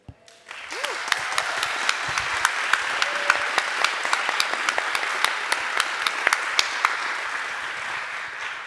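Sustained applause from an audience at a French feminist talk on fighting the far right, steady dense clapping that starts abruptly after a brief pause and holds loud throughout with scattered sharper claps standing out.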